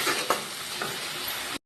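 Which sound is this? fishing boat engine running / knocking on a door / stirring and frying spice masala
stirring and frying spice masala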